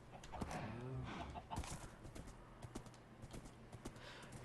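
Steady clopping hooves of a slow donkey in modded Minecraft, a quick run of light hoofbeats near the start and sparser clops later, with a faint whinny-like call early and no speech.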